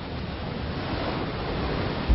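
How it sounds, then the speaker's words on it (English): Hurricane-driven ocean surf churns with strong wind in a dense, steady roar that holds constant throughout, with a brief louder gust or surge at the very end. "The hurricane's sheer wind power drives waves from far out at sea, increasing the high tide by as much as 20 feet."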